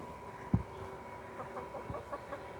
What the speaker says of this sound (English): The chickens are already sticking their heads out and getting them a bite